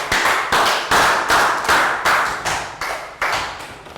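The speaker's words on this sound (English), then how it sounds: "Round of applause for Pat." Year 3 pupils in a social studies classroom clap in a steady run of sharp, evenly spaced bursts, about two per second, close and fairly loud, with no talking over it.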